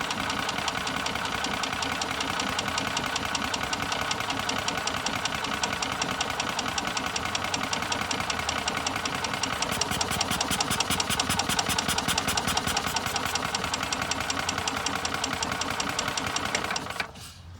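Old golf cart engine running steadily after starting, a loud close rhythmic putter with a knocking, sewing-machine-like beat that holds throughout before cutting off at the end.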